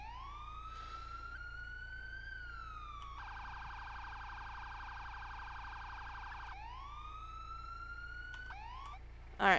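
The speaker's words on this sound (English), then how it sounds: "here's the siren" A police car siren in a Los Angeles-set roleplay video game sounds alone: a rising and falling wail, then a rapid yelping warble for several seconds, then the wail again, steady and clear, ending with a brief sharp burst.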